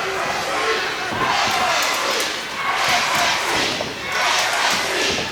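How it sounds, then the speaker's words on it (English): A large crowd roars and cheers continuously in a wrestling arena, swelling in waves with scattered thuds and shouts throughout. "Crowd coming alive."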